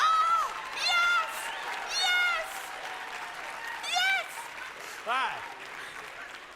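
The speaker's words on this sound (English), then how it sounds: "I'm okay with some women clapping" A conference audience claps in a large hall: a soft, steady patter of applause runs underneath, while close voices in speech and laughter rise over it in short bursts.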